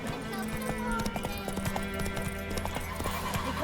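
Horse galloping in The Witcher 3 video game, rapid clip-clop hoofbeats with a whinny, heard under game music and a voice.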